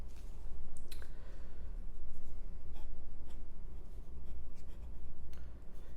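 Fountain pen with a Kakimori steel nib writing on paper, a continuous close scratchy rasp of strokes with small ticks and pauses between words.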